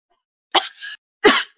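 Two sharp, close coughs from one person, a first cough with a short trailing rasp, then a pause and a second strong cough, with silence around them.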